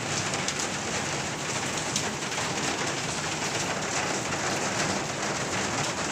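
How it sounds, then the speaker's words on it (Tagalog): Heavy rain pours down steadily, a dense, constant hiss of drops drumming on surfaces, with no talking. "Malakas po ang ulan"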